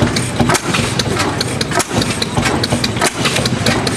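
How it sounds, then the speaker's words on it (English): A Bessemer oilfield engine mounted on an old steam engine frame runs nearby with loud, rhythmic chuffs and thumps at a steady pace, over a constant low mechanical rumble. "Here we have another Bessemer Oilfield engine."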